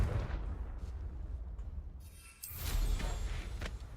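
Confringo explosive spell cast in the Hogwarts Legacy video game, with deep rumbling booms and a sharp fiery burst partway through, heard alone at moderate level.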